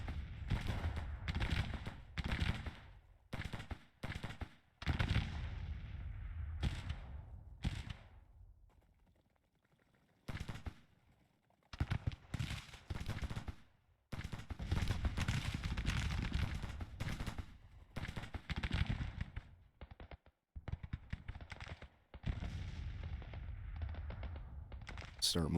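In the Civil War strategy game Grand Tactician, artillery guns fire in dense, continuous volleys of booming reports, with rapid overlapping shots and rumbling that go on for most of the stretch. There are a few brief lulls and occasional faint voices.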